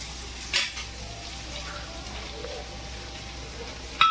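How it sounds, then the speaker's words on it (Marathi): Finely chopped onion fries in a pan for a dhaba-style mushroom masala, making a low, continuous sizzle bracketed by sharper metal clinks of a spoon against the pan. "आपण कांदा टाकून घेऊ।"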